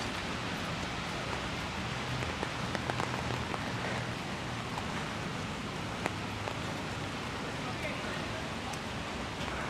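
Rain falls on a Manhattan street in New York City, a steady broadband hiss with scattered drop ticks running throughout, while a person talks under the noise.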